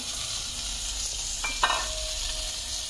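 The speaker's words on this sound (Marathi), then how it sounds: "हे आलं पेस्ट, आल्याचे तुकडे आणि लसूणची पेस्ट असं हे सगळं घालायचं आणि ह्यालाही परतून घ्यायचं" Ginger pieces, ginger paste and garlic paste being stirred and sautéed in a pan, giving a steady quiet sizzle with a couple of brief scraping stirs near the middle.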